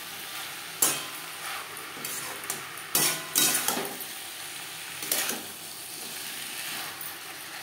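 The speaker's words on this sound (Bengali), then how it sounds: "মশলার সাথে কচুরলতি বেশ ভালো করে মিক্স করে দেবো।" Steamed kochur loti (taro stolons) being stirred into spice masala in a pan, with scraping spatula strokes and sharp clinks over a steady sizzle, close and fairly loud, no talking.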